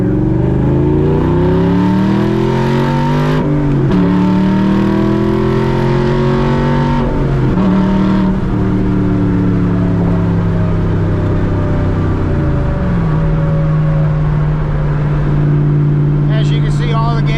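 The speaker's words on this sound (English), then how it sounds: "Just give you just a little second gear pull here." A Shelby Daytona accelerates hard in second gear, its engine roaring up in loud rising sweeps with brief dips at shifts, heard close from inside the car.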